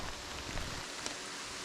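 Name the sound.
heavy rain while backcountry hiking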